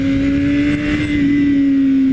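A BMW S1000RR sport motorcycle's engine drones loud and close, holding a steady high-revving tone with a slight rise and dip, with no talk over it.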